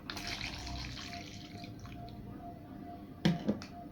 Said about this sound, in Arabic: هحط هنا كوبايه عصير ليمون، ده معصور بالايد.